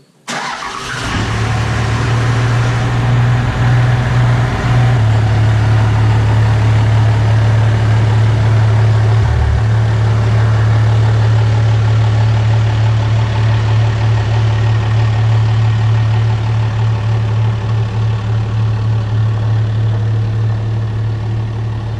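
A second-generation Cummins diesel truck engine starts and runs with a loud, steady low drone and a strong humming tone, close by throughout with a slight dip partway through.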